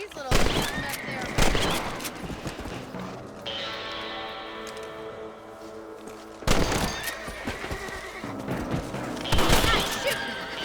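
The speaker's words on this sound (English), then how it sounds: "Get your rifle out." Rifle shots ring out in Red Dead Redemption as rabbits are picked off around crops, several sharp cracks spaced apart, with horses whinnying and game ambience between the bursts.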